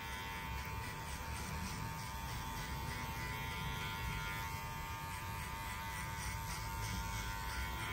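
Electric hair clippers buzzing steadily while cutting hair in a barbershop, a close, continuous high-pitched whine that holds without pause, alone.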